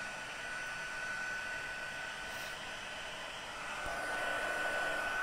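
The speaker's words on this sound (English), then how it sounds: "I'm gonna heat up my heat tool a little bit first." Heat tool blowing hot air while warming up for gilding leaf, a steady loud whooshing fan roar with a faint high whine, continuous and close throughout with no voices.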